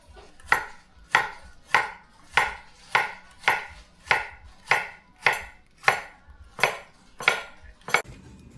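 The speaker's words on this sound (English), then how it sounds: "We're cutting these in very small pieces, about this size." A knife chops bitter melon into small pieces on a cutting board, with about thirteen crisp, evenly paced strokes in a steady rhythm, close up and moderately loud.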